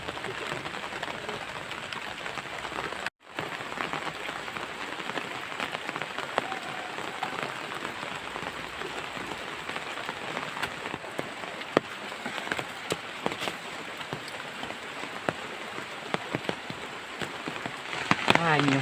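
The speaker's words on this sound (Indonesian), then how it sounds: "Alah, hujan kieu gini kan." Steady rain falls and patters on surfaces, a dense, even hiss that runs almost unbroken, with a short dropout near the start and faint voices now and then underneath.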